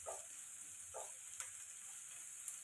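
Whole garam masala spices frying in hot oil for a shahi aloo dum, a low steady sizzle with a few soft bursts of crackle and faint clicks, close and quiet with no voices.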